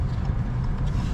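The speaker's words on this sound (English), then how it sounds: "I'm pulling up to my spot where I like to take pictures of my vehicles." A 2022 Ford Maverick pickup pulls up and parks, giving a short, close, low engine rumble with a steady drone and no talk.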